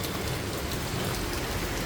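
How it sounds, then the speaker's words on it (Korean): Heavy rain pours steadily outside a café, a dense, unbroken hiss of drops striking surfaces, loud and close with no other sounds. "비 빗소리 들으면서 이렇게 앉아 있으니까 아 좋네요"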